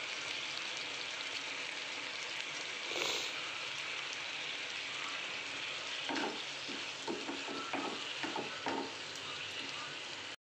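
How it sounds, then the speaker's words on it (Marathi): A chilli paneer mixture with tomato sauce is stirred in a hot pan, giving a steady sizzle with a run of scraping, clacking spoon strokes toward the end. "व्यवस्थित त्याला मिक्स करून घ्यायचं आहे आपल्याला"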